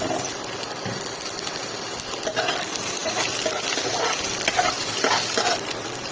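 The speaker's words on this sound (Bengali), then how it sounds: "আলুটা একটু ভাজা ভাজা হোক" Potatoes frying in a wok with a steady, loud sizzle and hiss that runs throughout, broken by occasional scrapes and stirring, heard close with no talking.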